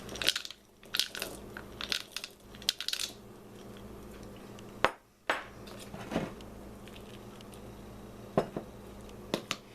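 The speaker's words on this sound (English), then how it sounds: "I'm just going to add some of the festive looking chips" Festive chocolate chips clatter and rattle into a glass jar in sharp bursts of small pinging hits, pausing and resuming several times, fairly close with no talking.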